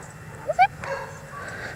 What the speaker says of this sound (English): And that's a dog barking in a